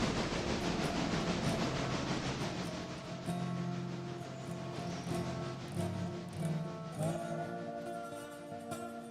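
A train rolls along in the railroad simulation game Railroader, a steady low rumble with a continuous hiss and faint rhythmic clatter, holding at a moderate distance throughout.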